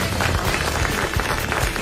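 Studio audience at a 1986 French television show applauding steadily, a dense wash of many hands clapping at close range with no voices over it.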